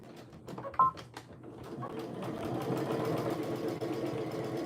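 A sewing machine back-stitching a tee shirt, its steady mechanical whirr running continuously and fairly close after a few brief clicks and taps at the start.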